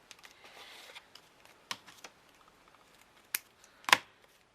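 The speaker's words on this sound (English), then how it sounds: "I'm just going to snip off the stem." Scissors snipping the stem off a gold-brushed leaf, a few sharp close clicks after a stretch of soft rustling, the last cut the loudest.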